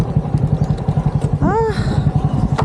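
A motorcycle engine putters in a fast, steady rhythm close by while a voice speaks briefly over it.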